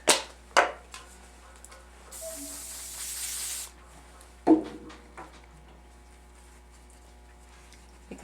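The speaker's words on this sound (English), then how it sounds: "I like to clean the hemostats with the Oster spray disinfectant" Hemostats getting a misting of Oster disinfectant spray, a steady hiss lasting about a second and a half, set between sharp clinks of metal instruments nearby.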